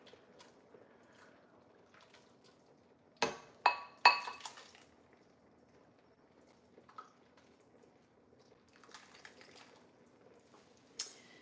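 Glass mixing cup clinks against dishware while food is served in a home kitchen, a few sharp clustered chinks midway, then quieter scattered taps, with no talk over it.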